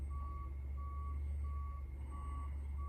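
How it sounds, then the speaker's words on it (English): Truck reversing alarm beeping in a steady repeating rhythm, each tone evenly spaced, over a constant low engine rumble, fairly close and continuous with no talking. "God, I wish that beeping would stop."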